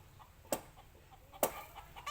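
A rooster chasing a stranger lets out two sharp, loud clucks about a second apart, with faint outdoor background noise between them.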